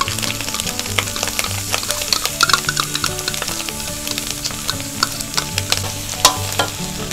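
Macaroni stir-frying in a pan with sauce, ham and mushrooms: steady close sizzling with frequent scraping and clinking of a utensil against the pan, continuous throughout with no talk.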